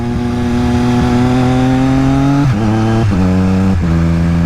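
A Triumph Street Triple RS fitted with a DNA air filter and a reset ECU revs loud and close, its engine tone climbing steadily before three quick gear shifts, each dropping the pitch and starting the rise again.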